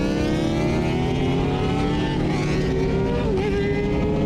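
Kawasaki ZX-10 and Suzuki Gixxer sport motorcycles launch at a bike-night drag race, their engines a loud, close, sustained roar that climbs steadily in pitch as they pull away.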